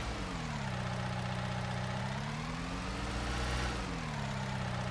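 Bobcat skid steer idling in Farming Simulator 19, a steady low diesel drone with a slight rise in revs near the end, continuous and close, no talking over it.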